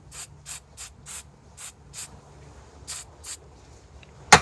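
Several short hissing bursts of Aqua Net hairspray sprayed over a phone, spaced irregularly, close by, ending with a sharp clatter.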